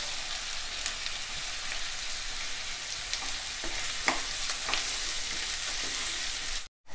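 Curry leaves crackle and sizzle in hot oil in a pan, a dense, steady frying hiss with scattered sharp pops, close and continuous, with a brief cut near the end.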